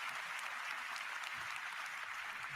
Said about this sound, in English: Big round of applause for everybody who came out here tonight.